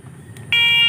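Brief electronic beep from a TWOOC bike horn set to its lowest volume, a single steady shrill tone of about a third of a second, close and clear over faint background noise.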